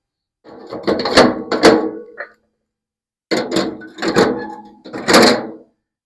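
Wood pellets are emptied from the hopper into the slide-out drawer of a Flame Pro pellet patio heater, giving close rattling, clattering metal bursts in two groups separated by a brief silence.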